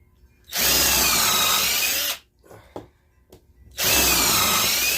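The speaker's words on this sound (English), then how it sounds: "So we got to pre-drill this side." A power drill pre-drills a wooden planter board in two loud, sustained runs, each about one and a half seconds long. Short clicks and handling noises fall in the quiet gap between them.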